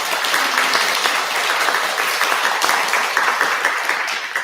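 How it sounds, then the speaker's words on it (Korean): Sustained, loud applause from a crowd at a Buddhist temple service, dense steady clapping filling the room throughout. "큰 박수 한번 부탁드리겠습니다."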